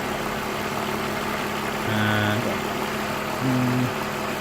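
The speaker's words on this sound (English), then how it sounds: "Noise down there, probably air conditioning unit." Steady idling hum from a 2002 BMW 320i engine with a constant whooshing fan-like drone from the air conditioning unit, plus two short tonal whines that rise briefly above the rumble.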